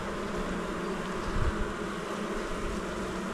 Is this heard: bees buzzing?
yes